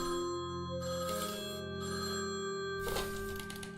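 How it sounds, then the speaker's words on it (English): A telephone rings inside the video game Feline Forensics, a bright electronic ringtone in two clear bursts over a steady musical backdrop, close and prominent with no one talking. "why's the phone ringing?"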